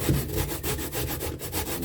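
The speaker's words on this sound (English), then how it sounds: "I'm gonna grate off all this potato." Sweet potato scraped on a hand grater, a steady run of close rhythmic rasping strokes, roughly eight to ten in quick succession with no talking.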